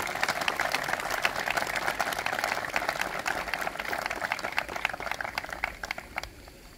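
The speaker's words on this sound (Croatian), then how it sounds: "Molim je da ustane i molim jedan veliki aplauz za Elvedinu" An audience at an Olympic Day event applauds Olympian Elvedina Muzaferija, sustained dense clapping at steady strength that slowly thins toward the end.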